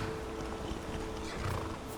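A horse heard close by, with a snort or whinny-like cry and some shuffling hoof sounds over steady background noise, continuous for about two seconds without talk.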